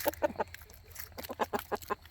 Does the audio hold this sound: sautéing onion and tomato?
no